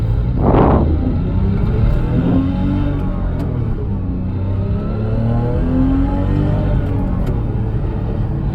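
A 2011 Porsche 911 GT3 pulls away under acceleration, its engine note climbing in a loud, close rising roar that carries on steadily for several seconds with no speech over it.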